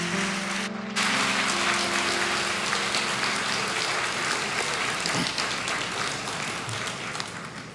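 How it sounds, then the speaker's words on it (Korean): A church congregation at a Sunday worship service applauds to welcome the pastor, with broad steady clapping from a large hall rising after brief music and continuing evenly throughout. "뜨거운 박수로 목사님 맞이하겠습니다."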